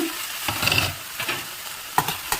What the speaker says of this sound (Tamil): இப்போ இது வதங்க ஆரம்பிச்சிருக்கு